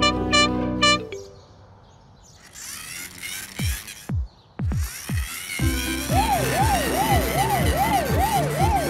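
A cartoon fire truck siren wails in a rising and falling pattern, repeating steadily over bright animated sound effects near the end.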